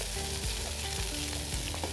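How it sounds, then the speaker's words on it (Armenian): Garlic fries quickly in a hot pan for a bulgur and shrimp dish, a dense, loud, close sizzle filling the whole moment with faint stirring underneath. "Ավելացնում ենք սխտորը, արագ տապակում ենք։"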